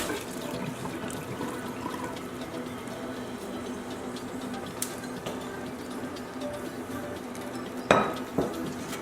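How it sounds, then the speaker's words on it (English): Pasta water drains from a pot into a kitchen sink with a steady rushing pour, and a few clinks of metal against the sink near the end. "We're now going to drain the pasta from the pot and add it back in."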